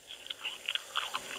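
Faint, close crunchy chewing and biting heard over a phone line in the horror film Halloween, a series of irregular wet crunches and smacks on a quiet background.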